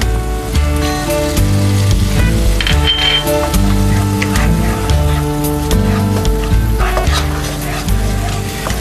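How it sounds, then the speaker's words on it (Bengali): Prawns fry in melted garlic butter with a continuous bright sizzle and crackle, close and loud, under a steady tonal background throughout. "এবার এর মধ্যে চিংড়ি মাছটা দিয়ে দেবো।"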